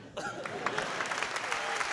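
Audience applause rings out after a stand-up comedy set at a live show, steady and full across the room and close to the listener, holding without pause from start to finish.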